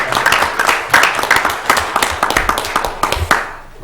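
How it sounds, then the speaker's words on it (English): Applause in a council meeting chamber: a small group clapping loudly and unevenly in sharp overlapping bursts that taper off near the end. "Where's the applause now?"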